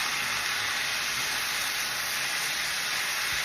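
Breakfast potatoes cook in a covered skillet on low heat, giving off a steady, even sizzle and hiss that continues unbroken throughout.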